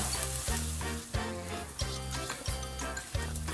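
Yakisoba noodles fry on a hot griddle with a steady, close sizzle, broken by periodic pulses of louder crackling.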